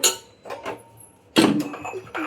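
A 1.5-litre pressure cooker is set up for steaming idli, with sharp metallic clinks and clatters of the pot and lid in separate bursts in a home kitchen.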